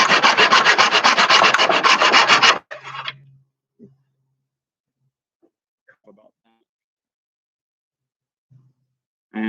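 Handsaw cutting a quarter inch off the end of a wooden sliding-door handle, a loud steady rasping stroke sound for a few seconds, then near silence with scattered faint knocks and handling noises.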